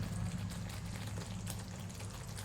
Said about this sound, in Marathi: थोड्या वेळ उकळत ठेवते.